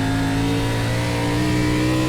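An ARCA series race car engine in iRacing drones loud and steady at high revs, a continuous close-up whine with no break.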